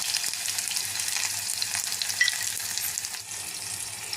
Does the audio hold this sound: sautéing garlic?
yes